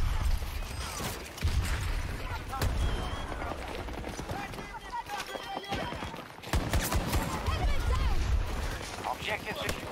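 Auto shotgun blasts in Battlefield 2042 boom through dense battle noise and mechanical clatter, with heavy shots in scattered bursts under nearly constant talking.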